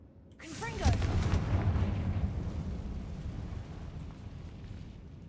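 A Confringo blasting spell explodes in Hogwarts Legacy with a sudden booming burst and a short crackling rise, then a long rumbling roar that slowly fades, with a voice heard during it.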